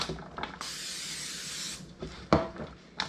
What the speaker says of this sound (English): I take a little cooking spray, spray it on.